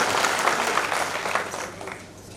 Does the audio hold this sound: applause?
yes